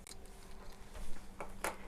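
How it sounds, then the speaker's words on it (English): Scissors cut through swimsuit lining fabric, a few quiet snips and slides with a sharper crisp cut near the end, close and faint in an otherwise still room. "I'm gonna use this and this to cut my lining"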